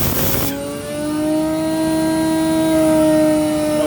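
A Butler vacuum blower runs during a wash-out with degreasing agent, a steady motor whine with sustained tonal hum that swells slightly in pitch and loudness, following a brief burst of broadband noise at the start.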